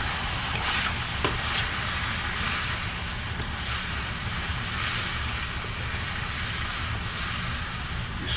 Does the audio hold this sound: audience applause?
no